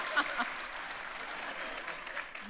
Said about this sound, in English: That's sympathy applause.